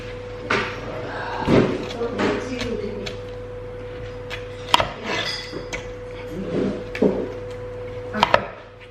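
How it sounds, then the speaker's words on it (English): A knife slices a cucumber into thin slices for a salad, with irregular crisp cuts landing on a board in short bursts, some louder knocks among them, close by. "Now that the cucumber's all chopped up, we'll add it to a bowl."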